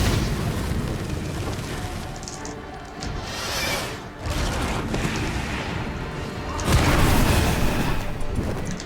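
Grapeshot bombs explode in The Witcher 3: Blood and Wine, giving loud, continuous booming blasts with rumbling debris that swell and fade, then surge again near the end.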